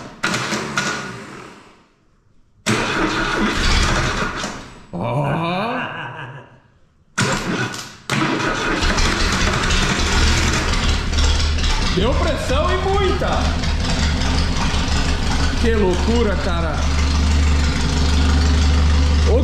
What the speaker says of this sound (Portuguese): eu nunca vi um motor tão silencioso!